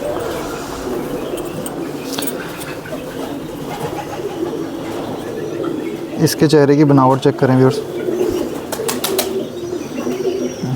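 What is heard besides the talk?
Gerebaz pigeon cooing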